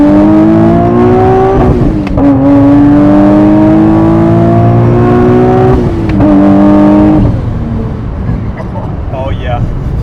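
A supercharged Nissan 370z accelerates hard in second gear, its engine note climbing loud and close through two rising pulls separated by brief shift dips, then easing off near the end.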